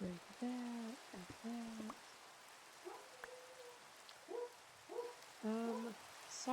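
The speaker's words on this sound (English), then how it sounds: "And of course it's raining while we're excavating." Steady rain hiss from the video game Minecraft runs throughout, with someone speaking intermittently over it.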